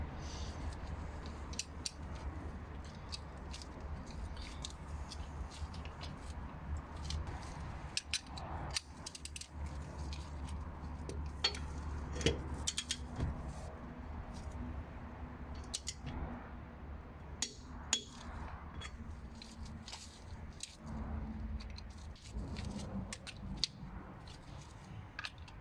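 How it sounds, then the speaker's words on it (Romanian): Bosch GDS 250-LI cordless impact wrench loosening a bolt, giving bursts of sharp rattling hammering clicks at close range, with brief gaps of quieter mechanical noise between them. "Prima oară o să strâng la 105 Nm, să vedem cât de repede îl poate desface."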